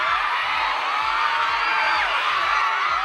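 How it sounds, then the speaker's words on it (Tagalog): Fans scream in a mall atrium as Sparkle artist Charlie Fleming shakes hands with the crowd, a dense, loud, continuous wall of high shrieks over a steady thumping low beat. "Nilanog sa atrium ang singgit sa fans dihang nakiglamano si Charlie sa crowd."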